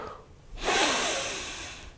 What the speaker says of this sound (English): starting off with a nice deep breath in